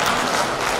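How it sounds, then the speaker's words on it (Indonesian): Audience at a formal plenary session of a regional assembly applauds, a brief burst of dense crowd clapping, loud and steady throughout. "Tepuk tangan dulu untuk sidang pleno keempat."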